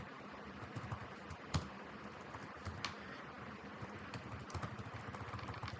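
Computer keyboard typing during a coding session, a close, steady run of quick key clicks with a few louder sharp strikes over a low background hum.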